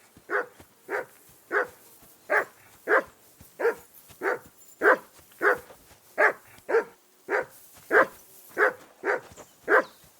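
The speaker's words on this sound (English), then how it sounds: "That barking was a pain in the ass." A dog in the medieval game Kingdom Come: Deliverance barks over and over in a steady rhythm, about sixteen loud, close barks spaced evenly with short gaps between them.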